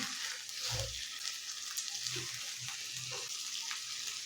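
Stuffed capsicum peppers fry in a pan as each one is turned over, a soft continuous sizzle with a few low clunks and scrapes from the flipping, with no voices.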